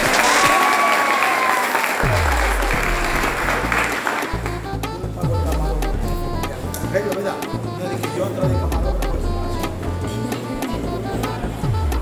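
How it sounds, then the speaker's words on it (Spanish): Loud, sustained audience applause at a Dominican graduation ceremony, dense clapping filling the whole clip alongside a strong tonal musical or electronic sound that starts partway through. "Fuerte el aplauso."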